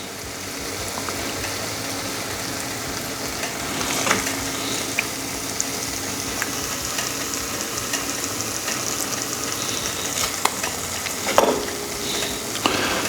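Burger patties and onions sizzle steadily on a flat griddle, a continuous crackling hiss broken by a few scraping clinks of a spatula, with no voices.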